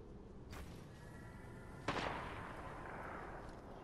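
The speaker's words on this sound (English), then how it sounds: "Now they're shooting from different angles." Distant gunfire from enemies in a Wild West-style shooter game, a faint crack near the start and a sharper shot midway, each trailing off into a soft echo over steady background hiss.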